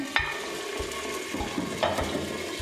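Spices including crushed red chili, salt and cumin go into a sizzling frying pan for a spinach and potato dish, with steady close frying crackle, stirring scrapes and occasional clinks of a utensil against the pan.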